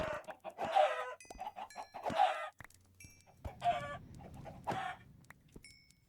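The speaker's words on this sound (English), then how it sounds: "We're going to do some chicken slaughtering here." Chickens in the Minecraft modpack Stone Block 2, a few separate clucks and squawks spaced a second or so apart, close and distinct over near silence.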